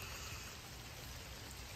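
Steady outdoor rain falls during Oregon's rainy season, a dense, even hiss of drops that stays constant throughout, with no voices.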